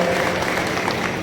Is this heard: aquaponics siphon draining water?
no